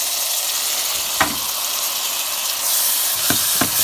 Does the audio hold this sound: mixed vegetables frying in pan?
yes